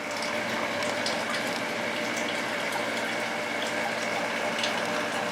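A strong aquarium pump drives water through a jellyfish breeding tank, making a steady close-up rush and gurgle with light bubbling that holds unchanged throughout, with no talking.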